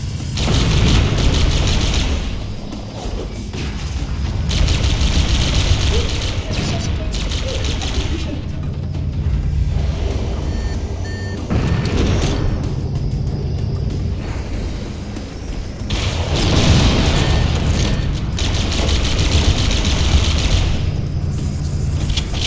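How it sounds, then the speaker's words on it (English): Fusion reactor explosions in Halo: Combat Evolved boom repeatedly in loud, heavy bursts, separated by rumbling lulls amid game weapon fire. "Use explosives on the other three reactors. That should be enough to trigger a wildcat explosion of the engine."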